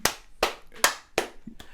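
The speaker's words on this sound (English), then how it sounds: "Round of applause, everyone." Applause at an informal home film awards ceremony, heard as a handful of sharp, widely spaced claps from a small group, each loud burst separated by short pauses.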